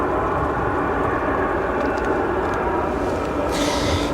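A China Cargo Airlines cargo plane moves at O'Hare International Airport, its engines giving a loud, steady broadband roar that holds throughout with little variation.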